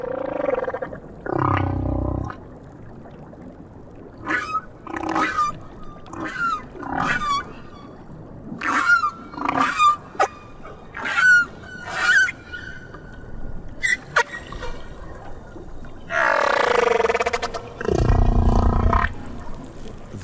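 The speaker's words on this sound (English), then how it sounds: "The song that Petty Point hears in the South Pacific is wondrous." Whale song in the South Pacific: long, loud moaning calls and rapid bursts of squeaky, creaking pulses. The calls repeat in an uneven pattern over about twenty seconds with no talking.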